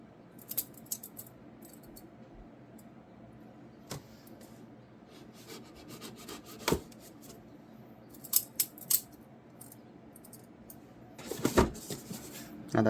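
Scissors cut open the plastic packaging of an Xbox Series X core controller, with a string of crisp close snips and rustling that bunch into a louder burst near the end.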